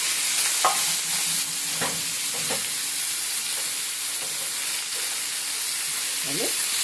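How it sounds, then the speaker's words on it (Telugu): Dried red chillies are stirred around in a hot cooking pan under a steady sizzle, and a few scraping strokes of the spoon stand out close by; no one speaks. "ఇట్లాగా బాగా కలుపుకోవాలి"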